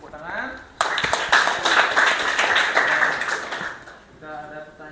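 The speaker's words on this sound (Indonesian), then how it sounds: "tepuk tangan sekali lagi untuk kelompok 1" Classroom applause for a student group after their presentation on magnetism, a dense burst of many hands clapping that starts abruptly and sustains for several seconds, with some speech before and after.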